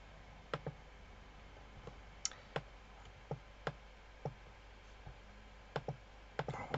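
Sparse, sharp mouse clicks, about a dozen spaced irregularly, while a diagram is drawn in GeoGebra, close and fairly quiet over a faint background hiss.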